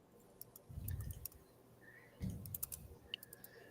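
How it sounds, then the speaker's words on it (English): Quiet keystrokes on a computer keyboard come in two short bursts of rapid tapping, with a few scattered clicks afterward in an otherwise hushed room. "I was typing"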